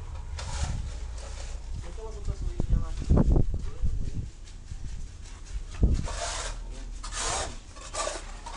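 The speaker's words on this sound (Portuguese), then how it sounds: "Tá lá o Gão lixando lá os ferros pra gente pintar, limpando, lixando." Iron bars being sanded and cleaned by hand before painting during a basic wall renovation, giving a steady rasping, rubbing scrape that runs throughout with a few louder knocks, while voices talk faintly in the background.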